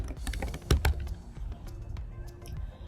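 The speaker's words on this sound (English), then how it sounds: "I'll type that in the search bar and hit enter" Computer keyboard typing as a search is entered, a run of quick light clicks up close with a firmer keystroke partway through, quiet and without voices.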